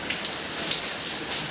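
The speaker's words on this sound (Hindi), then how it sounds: "सुबह से कंटिन्यू बारिश हो रही है, एकदम कंटिन्यू बारिश हो रही है।" Continuous heavy rain falls steadily, a dense, even hiss of drops striking surfaces that carries on without pause and with no voices.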